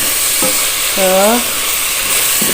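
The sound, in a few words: sautéing chicken feet and necks in oil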